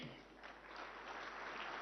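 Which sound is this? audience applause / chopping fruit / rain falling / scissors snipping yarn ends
audience applause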